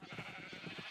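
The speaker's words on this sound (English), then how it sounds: "Actually, killing some of my sheep here" A sheep in Minecraft gives a single quavering bleat, close and fairly quiet, with a rapid pulsing warble through the call.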